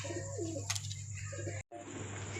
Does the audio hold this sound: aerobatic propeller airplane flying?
no